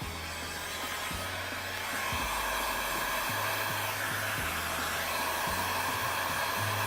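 A heat gun blows hot air while warming a craft LED necklace piece, giving a loud, steady fan-like rush that holds for the whole stretch without a break.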